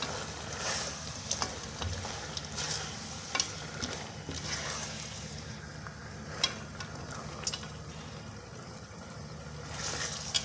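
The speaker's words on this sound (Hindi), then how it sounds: "अब हम इसमें शामिल करने लगे हैं बटेरे और इसको भी हम अच्छे तरीके से भून लेंगे" Quail meat is fried in masala in a karahi, giving a low, steady sizzle with scattered knocks and scrapes from stirring and a faint rumbling background.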